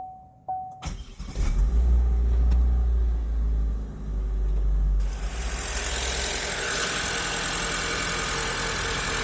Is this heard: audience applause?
no